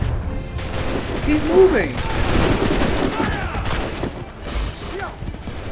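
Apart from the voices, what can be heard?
gunfire in Assassin's Creed 3 video game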